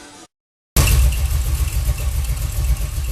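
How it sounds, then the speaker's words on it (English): After a brief moment of silence, a warmed-up car engine with a Holley 4150 carburetor idles close by at 800 RPM with a steady, even low rumble that holds without revving. "It's idling at 800 RPM."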